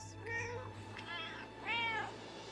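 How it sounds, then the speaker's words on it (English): Three distinct cat meows in a League of Legends skin showcase, each a clear, rising and falling mew that comes a little closer together toward the end, over a steady low hum. "Is it just gonna be a collection of meowing?"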